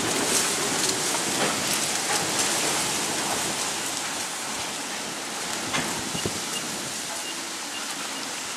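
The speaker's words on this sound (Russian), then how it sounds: "Дождь пошел" Steady rain falls through a windstorm at a riverside dacha, a dense continuous hiss with scattered drops striking surfaces close by, with no voices.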